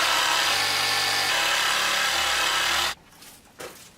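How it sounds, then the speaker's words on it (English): A jigsaw cuts out a marked shape during work on a Suzuki Samurai, giving a loud, continuous, rasping buzz for about three seconds before stopping abruptly, followed by a couple of faint handling knocks. "use that as a guide to cut it out with a jigsaw"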